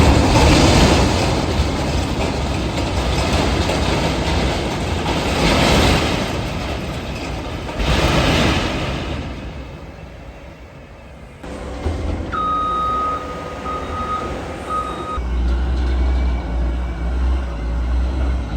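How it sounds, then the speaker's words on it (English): A lowboy truck pulls out in a stadium while dirt is moved for a Monster Jam track, its engine rumbling loud and broad alongside heavy machinery noise, with a steady high reversing beep sounding for a few seconds near the end. "The lowboy is pulling out"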